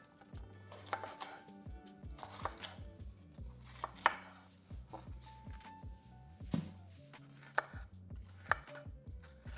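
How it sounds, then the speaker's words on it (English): Steady knife strikes on a cutting board as a green bell pepper is diced, with light taps broken by a few sharper, louder chops. "Next, I'm gonna dice up a green bell pepper."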